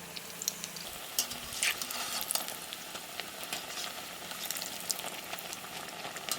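Eggplant slices fry in a pan of oil with a steady, close sizzle, broken by sharp pops and crackles and now and then a scrape, and no one speaks.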